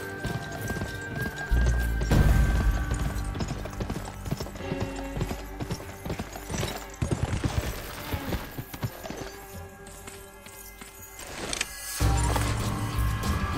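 In the video game Gun, a horse gallops during a ranch hand mission, its hooves clopping in a quick, driving rhythm, with whinnies and snorts, game effects and occasional louder thuds throughout.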